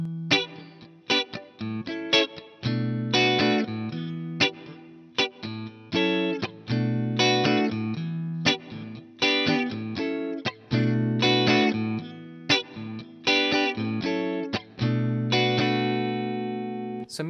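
Electric guitar playing a song's chord progression, rhythmic choppy strummed chords with short muted stabs, clear and close with no talk.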